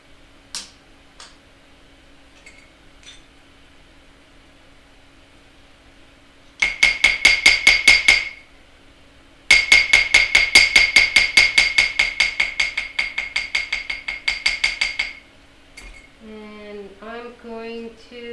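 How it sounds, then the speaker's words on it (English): A small hammer taps a wire-wrapped heart pendant in two fast bursts of sharp metallic strikes, close and bright. A few faint clicks come before the bursts, and a voice follows them. "the only thing that we need to do is to hammer this"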